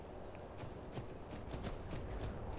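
Horse hooves clip-clop at a walking pace in the video game Skyrim, a quiet, irregular series of soft thuds over low ambient noise.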